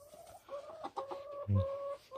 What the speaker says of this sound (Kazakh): Тауықтарым осы.